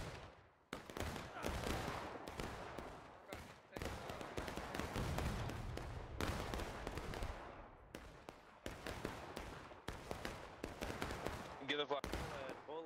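Musket volleys in War of Rights, a Civil War game: Confederate infantry firing into the Union line, with dense, repeated crackling gunfire bursts for the whole stretch while people talk over it.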